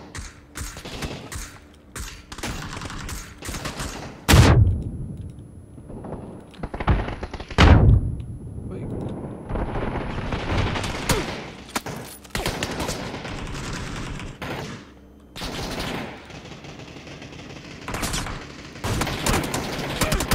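PC PUBG gameplay with bursts of gunfire, a couple of loud close shots standing out among lighter rapid volleys and thuds over about twenty seconds.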